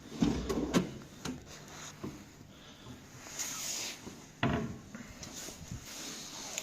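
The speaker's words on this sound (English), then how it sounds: "Yes, you can see this self-closing system." Soft closing of furniture fitted with a self-closing system, heard as several muffled wooden thuds and slides spread across a quiet room, with one firmer knock near the middle.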